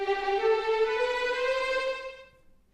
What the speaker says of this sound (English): This is the tremolo, which sounds like this.